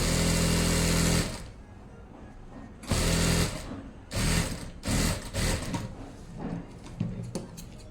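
An electric sewing machine stitches trouser fabric in short bursts, a fast buzzing rattle starting and stopping several times with quieter pauses between runs, close and fairly loud, with no speech.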